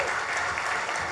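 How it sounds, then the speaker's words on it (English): Brief, dense applause from a seminar audience welcoming a speaker at a real estate masterclass in Orlando, with steady clapping holding at an even level throughout. "Let's give him a giant round of applause."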